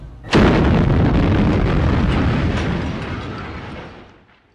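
A single IRA bomb explodes during the 1972 Bloody Friday bombings: a sudden loud blast, then a long roaring rumble that fades away over several seconds.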